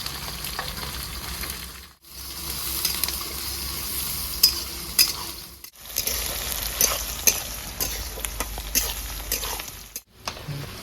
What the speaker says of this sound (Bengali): পেঁয়াজ আমার লাল লাল ভাজা হয়ে গেছে